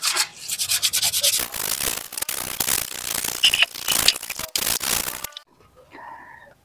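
A finished carved piece rubbed down with fine sandpaper, close and loud continuous scratchy strokes with brief crackles, cutting off near the end to quiet room sound.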